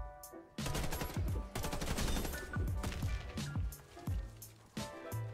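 Rapid R16 rifle fire in a Warface match, bursts of sharp gunshots packed close together over a busy game mix, with a few brief pauses between volleys.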